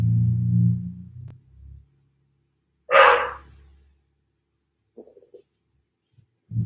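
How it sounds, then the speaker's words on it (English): A single sharp dog bark heard at a distance in a quiet room, with some low rumbling before it and faint small noises after. "if you heard that, that was my dog"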